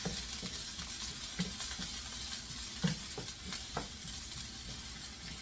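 Oil sizzles steadily in a pan as it heats for a spicy lobster tail stir-fry, a continuous crackling hiss broken by small pops and the occasional scrape of stirring, close and even with no talking.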